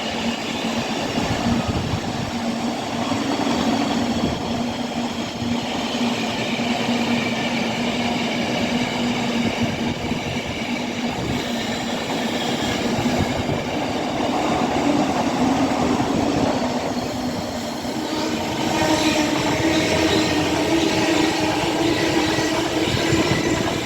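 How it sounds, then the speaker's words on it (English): An Avanti West Coast Pendolino on the London Euston to Chester service passes on the down fast line at Rugby, a sustained loud roar and rumble of wheels and rail with a tonal whine throughout. "About to pass by on the down fast line, we have an 8:05 Avero going from London Euston to Chester."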